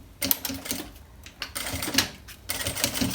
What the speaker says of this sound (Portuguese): E vou passar essa costura aqui